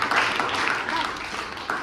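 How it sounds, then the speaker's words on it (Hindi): A group of students in a classroom claps together, a dense, even patter of many hands heard close and filling the whole moment. "अरे वाह, ताली बजा दें इसके लिए।"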